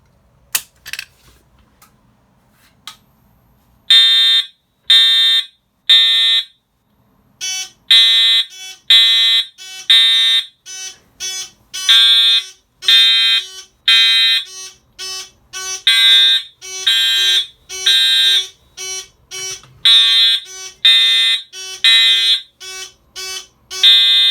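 Edwards ESA 2000 fire alarm panel set on code 3 sounds piercing buzzing horn bursts in a repeating on-off temporal pattern, loud and close after a short quiet start.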